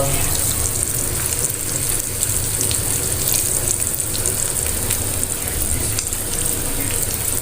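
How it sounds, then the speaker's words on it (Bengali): Spices, turmeric and chili powder frying in hot oil: a loud, continuous close sizzle with crackling texture that stays steady throughout, no talking. "এবং হলুদ মরিচের গুঁড়া এবং মশলা, তেল এগুলো দিয়ে ভাজি করতেছি।"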